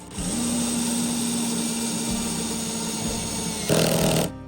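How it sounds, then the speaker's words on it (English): A power drill whines steadily into steel EMT conduit, a loud sustained grinding hum that shifts pitch near the end and then stops. "Now I'm gonna start drilling the conduit."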